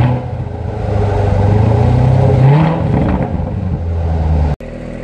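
A powerful supercar engine in sport mode revs up close, its pitch climbing and then settling into a loud, throaty idle before a brief cutout.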